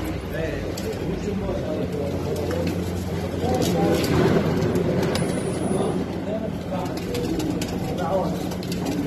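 Pigeons and doves coo in a bird market shop, their soft calls layered over a busy, noisy background with people talking nearby.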